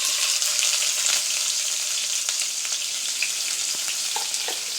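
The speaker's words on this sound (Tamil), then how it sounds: "இது நல்லா பொன்னிறமாக வதங்கட்டும்." Onions frying in hot oil with fennel seeds for a Tamil egg gravy, a steady loud sizzle with faint stirring clicks throughout, no talking.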